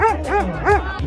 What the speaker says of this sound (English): The dogs are all over the place.